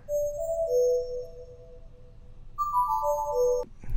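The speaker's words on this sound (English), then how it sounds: "I also have this little pluck here that's just a sine wave that's bit crushed" A thin, slightly crunchy bit-crushed sine wave synth pluck plays a short descending melody, then repeats it higher, over a faint low background.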